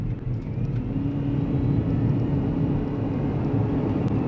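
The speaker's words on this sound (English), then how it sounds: "I do hear the whining noise from the motor" A 2024 Haval Jolion Ultra Hybrid accelerating at full throttle from low speed, with a steady low rumble of road and drivetrain noise inside the cabin and a faint rising electric motor whine above it, no voices.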